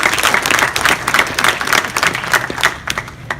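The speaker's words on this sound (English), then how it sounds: "She deserves a round of applause for that" Steady applause from a crowd, dense clapping that holds for a few seconds before thinning slightly at the end.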